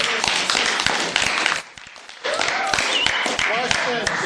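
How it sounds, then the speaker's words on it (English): Classroom audience claps in a dense burst of many overlapping hand claps, pausing briefly midway before resuming, with some voices mixed in. "round of applause. Do it."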